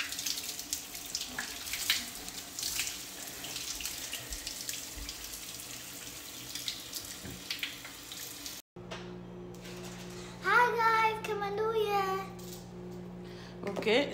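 Tap water runs steadily while hair is rinsed at a sink, a continuous splashing hiss; partway through the texture changes and a voice and other talk come in over the flow.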